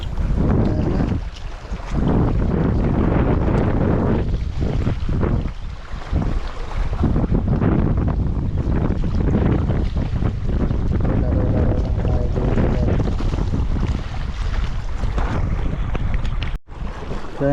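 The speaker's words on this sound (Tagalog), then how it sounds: "Ang lakas ng hangin." Strong wind buffets the microphone at sea aboard a small fishing boat during ultralight fishing, a loud, continuous roar with heavy gusting rumble throughout and a brief dropout near the end.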